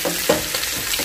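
Onions fry in a pan, a brief, close hiss of sizzling with a light bubbling crackle.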